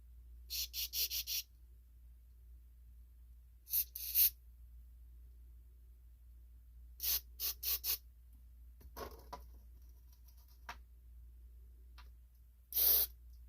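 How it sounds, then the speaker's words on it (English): Several short hissing bursts of carburetor cleaner aerosol spray, some doubled or tripled, separated by quiet pauses with a low hum underneath, while cleaning a Honda GT 31 4-stroke engine carburetor. "Make sure your straw don't fall off your carb cleaner."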